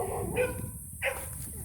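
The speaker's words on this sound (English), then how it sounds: "Pardon the dogs barking in the background." Dogs bark in the background on an off-grid homestead, two short barks about half a second apart, moderately loud over a steady noisy backdrop.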